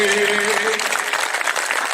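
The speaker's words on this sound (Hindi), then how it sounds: "थोड़ी कमजोर तालियां इस बार आपकी।" Applause from an audience at a poetry recital held at a community Diwali gathering, a dense, steady clapping that fills the clip at fairly close range, with a brief tonal voice at the start.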